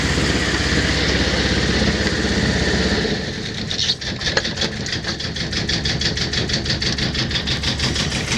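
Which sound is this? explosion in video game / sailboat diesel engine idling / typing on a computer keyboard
sailboat diesel engine idling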